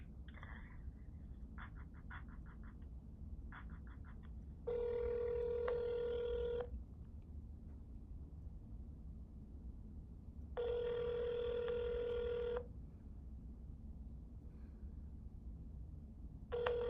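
A telephone line during a call transfer to a police district supervisor's office in Cleveland, Ohio: short clicky chirps and beeps, then two long, steady ringback tones several seconds apart, clear and close against a quiet line hiss.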